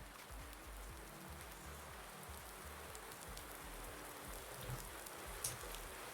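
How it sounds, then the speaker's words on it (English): Steady rain falling on a farm in Farming Simulator 19, a soft constant hiss with faint patter of drops and low rumble underneath, no voices. "Rain is here."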